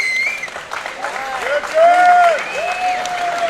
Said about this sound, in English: The crowd here.